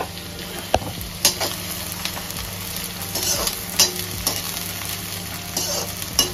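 Onions hit very hot oil for a mutton bhuna, giving a steady close sizzle with scattered sharp pops and spatters, no voices.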